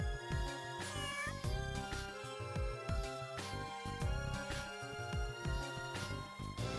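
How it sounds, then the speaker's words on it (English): A cat meows repeatedly in Phantasy Star 0, a video game, heard over steady, busy game music that stays loud throughout. "let's go and pet the cat."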